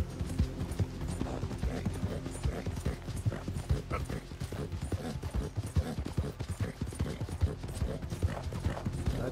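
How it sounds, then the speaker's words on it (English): Horse hooves clip-clop in a steady, rapid rhythm while riding in the video game Red Dead Redemption 2, close and continuous. "Go, horsey."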